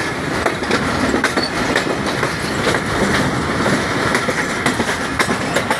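Millat Express passenger train rolling on the rails, a loud, close, continuous rumble with rhythmic clickety-clack of wheels over rail joints.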